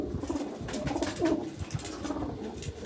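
Pigeons coo softly in low, throaty murmurs, a steady rolling chorus at moderate distance with faint background rustle.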